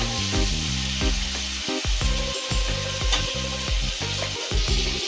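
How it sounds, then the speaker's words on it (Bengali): Shrimp seasoned with salt and turmeric sizzle in hot oil in a pan, a continuous frying hiss broken by repeated scraping and tapping of a utensil, close and fairly loud. "লবণ আর হলুদ দিয়ে চিংড়ি মাছগুলোকে হালকা করে ভেজে নিতে হবে।"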